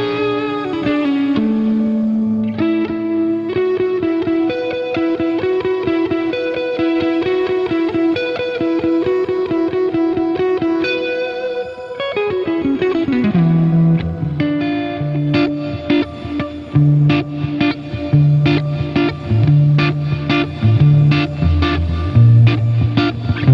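Electric guitar played through a Fender Reflecting Pool delay and reverb pedal set to reverse reverb, sustained chords swelling and washing together, then brighter plucked notes over a low bass line, loud and dense with no voices.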